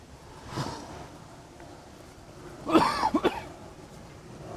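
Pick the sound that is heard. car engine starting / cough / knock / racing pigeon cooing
cough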